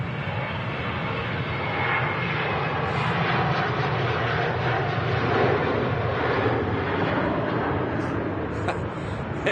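A Qatar Airways airliner at Manchester Airport sounds as a continuous, moderately distant engine drone, even in level throughout, with a few faint higher chirps near the end.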